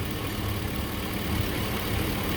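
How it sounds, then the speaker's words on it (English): A 5.3 car engine idles steadily during a lifter-tapping test, a constant, even drone with no distinct knocks. "We'll let it sit here and idle for another hour."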